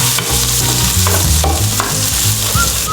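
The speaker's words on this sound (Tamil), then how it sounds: "இப்போ இது எல்லாத்தையுமே ஒரு வாட்டி நல்லா வதக்கிக்கோங்க." Onion and curry leaves sautéing in oil for village-style chicken kulambu, a loud close sizzle with scraping stirring strokes throughout.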